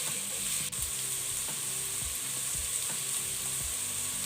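Sliced onions frying in hot oil in a pan for a chicken curry, a steady close sizzle with light stirring scrapes and soft pan knocks repeating throughout, no voice.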